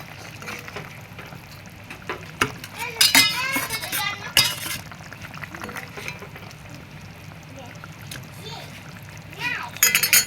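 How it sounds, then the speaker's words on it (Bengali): Fried lentil bora are dropped into a simmering curry, giving a few wet splashes and clinks of a utensil against the pot over a low bubbling bed, with voices, including a child's, talking intermittently. "এখন আমি বড়াগুলো দিয়ে দেবো।"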